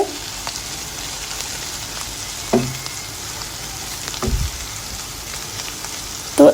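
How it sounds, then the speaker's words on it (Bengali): Bitter gourd fries in a pan with a constant soft sizzle, broken by a few scraping clacks of a utensil stirring it. The sound is close-up, with no voices. "এখন আমি এইভাবে নেড়ে চেড়ে আমি করলাটা সুন্দর করে ভেজে নিব"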